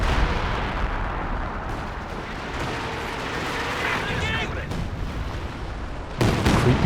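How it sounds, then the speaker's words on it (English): A creeping artillery barrage in Company of Heroes 2 rumbles as dense, continuous explosions and booming impacts, with a louder burst near the end, all under a steady wash of game noise. "Creeping barrage here."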